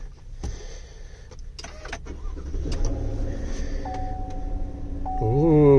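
A Chevy truck with push-button start: chime tones sound inside the cab, then the engine cranks and catches near the end, rising to a steady, louder running hum.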